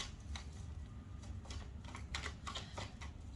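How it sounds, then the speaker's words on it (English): A deck of tarot cards is shuffled by hand while the shuffler wears rings. Soft, quiet riffling bursts repeat in quick flutters with no talking. "My rings are making it difficult for me to shuffle."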